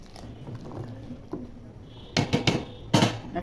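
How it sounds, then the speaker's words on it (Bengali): Spoon scraping and clattering in a pot while bhuna khichuri cooks, a few quick metallic clinks and stirring knocks in short clusters near the end, close and fairly loud. "নেড়ে চেড়ে দিব।"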